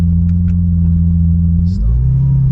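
A Lamborghini Aventador S V12 shifts into second gear around 3,500 rpm, heard from inside as a loud, steady low engine drone that drops in pitch at the shift, with a brief crackling pop from the exhaust.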